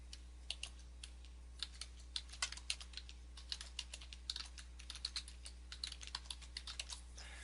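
A domain name is typed on a computer keyboard, quiet close key clicks in uneven bursts with short pauses, over a faint low hum.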